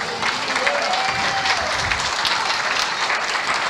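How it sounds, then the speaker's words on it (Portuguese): A church congregation claps steadily and loudly through the whole stretch, dense applause with a faint sung or spoken tone drifting above it and no break. "Pode aplaudir que é para o Senhor."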